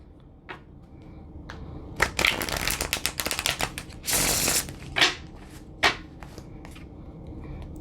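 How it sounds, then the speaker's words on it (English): A deck of cards is shuffled up close, with bursts of rapid riffling and crisp slaps, several separate shuffles and taps spread across the clip against a quiet background. "I'm going to shuffle one more time."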